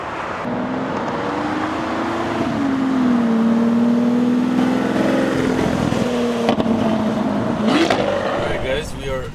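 A Liberty Walk widebody Lamborghini Aventador drones along with its engine note rising and falling as it accelerates and revs, a loud steady tone with a sharp rev near the end, while people talk over it.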